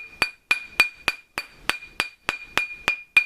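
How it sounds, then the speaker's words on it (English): A rawhide mallet strikes silver on a steel mandrel in about a dozen sharp, ringing taps at a steady rhythm, close and clear with no talk. "With the rawhide mallet, you won't put any dents in the silver as you're working it up the mandrel."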